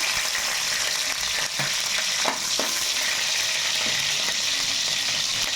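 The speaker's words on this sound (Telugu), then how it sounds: "ఇప్పుడు పచ్చిమిర్చి వేసేసుకుందాం" Green chilies hit heated oil in a kadai while chicken curry is being cooked, producing a loud, continuous close-up sizzle with scattered crackles and faint scraping, and no voices.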